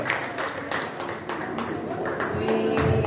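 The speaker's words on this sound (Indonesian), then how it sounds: "Oke, tepuk tangan dong ya." An audience at a kindergarten parenting event claps in quick, even, repeated claps, moderately loud and close, while someone speaks over the applause.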